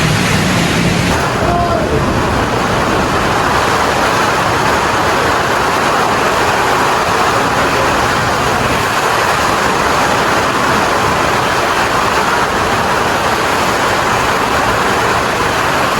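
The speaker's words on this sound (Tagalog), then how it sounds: "grabe na yung lakas ng hangin at ulan" Roaring typhoon wind and heavy rain blast steadily and loudly throughout, a dense unbroken rush of noise.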